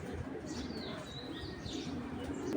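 A pair of Giribaz pigeons, a red-marked hen and cock, coo softly and intermittently at close range, with faint chirps and a low background hum.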